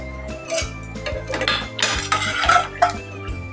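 A spoon mashing pressure-cooked carrots in a pot for carrot halwa, with repeated metallic scrapes and clinks against the pot in an uneven rhythm, close and fairly loud.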